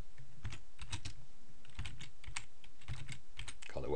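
Brisk typing on a computer keyboard, clusters of crisp key clicks in short bursts with brief pauses, close and clear over a steady background hum, no speech.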